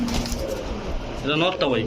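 Soft pigeon cooing mixes with nearby voices talking, the low burbling coos rising and falling under the chatter.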